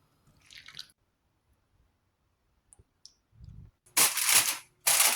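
Paprika and water curry sauce poured over baked beef kofta in a pan, heard as close wet splashing and dripping bursts near the end after a few small clicks, with no talk.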